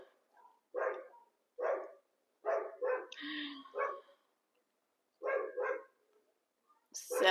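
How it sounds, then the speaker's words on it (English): A neighbor's dog barks repeatedly from a short distance away, in single and paired barks spaced about a second apart with a few gaps of quiet, moderately faint and with no voices over it. "this is my neighbor's dog that we hear every day, and he barks all the time"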